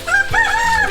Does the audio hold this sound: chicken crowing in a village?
yes